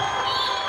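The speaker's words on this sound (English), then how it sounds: "Crowd has been looking for a reason to cheer." Basketball arena crowd at a women's college game between South Carolina and Kentucky, cheering loudly in a dense, sustained roar with no clear breaks throughout.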